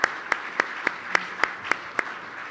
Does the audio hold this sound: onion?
no